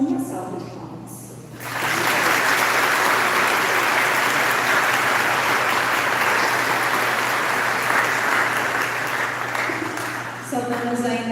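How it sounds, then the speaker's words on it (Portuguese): A church congregation applauds at a 170th-anniversary parish service, a loud, sustained wave of clapping that fades out, with a spoken voice before and after. "Acolhemos a todos e todas com uma salva de palmas."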